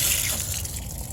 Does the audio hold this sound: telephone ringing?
no